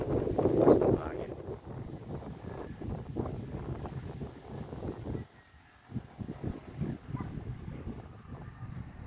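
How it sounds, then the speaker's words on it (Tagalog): A strong wind roars and buffets the microphone at a park in Tagaytay City, gusting unevenly. It dips briefly midway, and people talk faintly beneath it. "Lakas ng hangin."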